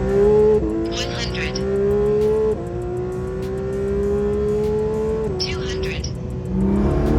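A Porsche 991 GT2 RS and a twin-turbo 992 GT3 RS run 100 to 200, one loud sustained engine note climbing steadily through gear changes, with brief tire or turbo hiss bursts and a voice calling numbers over it.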